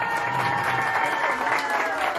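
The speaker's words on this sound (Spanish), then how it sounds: "¡Vamos a darle un fuerte aplauso!" A crowd at a mariachi serenade applauds steadily, dense clapping filling the space evenly for a couple of seconds without pause.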